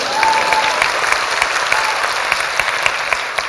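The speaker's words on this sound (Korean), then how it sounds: "애매하죠? 박수?" Audience clapping at a talk, a dense even wash of many hands with a few sharper individual claps standing out, moderately loud and steady throughout with no voices over it.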